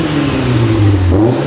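Renault Clio 182 engine, warmed up, revving steadily with a strong, continuous drone that rises and falls slightly in pitch, close and loud with no talk.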